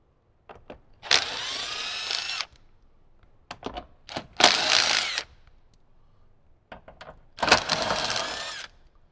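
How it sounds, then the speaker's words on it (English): Ratchet bursts loosening 10mm bolts holding the soundbar in a 2018-2023 Jeep JL Wrangler, three separate whirring runs, close and loud, with quieter clicks and taps between them. "So let's go ahead and start taking out those bolts."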